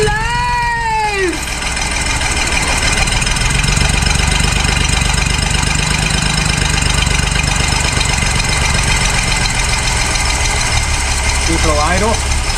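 A 1966 Ford Mustang barn-find engine, revived after 40 years, idles loudly and steadily at close range, a constant rough rumble with a high whine through the whole stretch.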